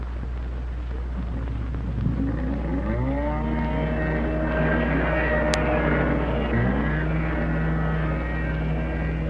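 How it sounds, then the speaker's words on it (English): A jet ski's small motor cranks via electric starter and catches, its pitch rising and sliding as it revs, over a constant low rumble of engine noise. "The jet ski's electric starting system responds to the push of a button."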